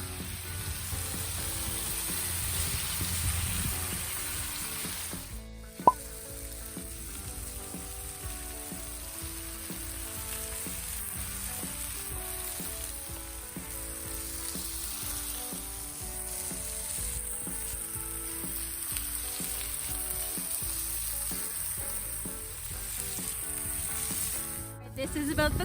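Bacon fries on an outdoor homemade flat-top griddle, a continuous crackling sizzle that holds steady for the whole stretch, with one brief knock partway through.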